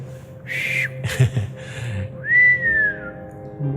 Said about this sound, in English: whenever the Northern Lights came out, she'd just whistle.